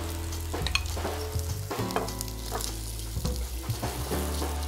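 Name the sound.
sautéing kikiam and squid balls in a pan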